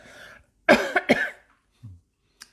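Two sharp, close coughs in quick succession, followed by a faint low throat sound.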